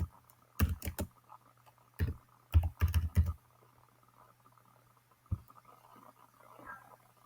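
Typing on a computer keyboard while setting up a Google Sheets project in a console, heard as short bursts of close, quiet key clicks separated by pauses, with a faint low hum underneath.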